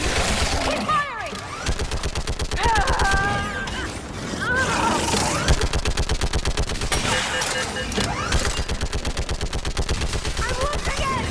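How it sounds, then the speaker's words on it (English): Rapid automatic gunfire rattles almost nonstop in a Mass Effect 3 firefight, dense and loud, with shouted voices and mechanical whines mixed in. "Keep firing!"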